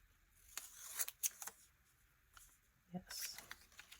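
Scissors snip through magazine pictures, a few quiet crisp cuts in two clusters with soft paper rustling between them.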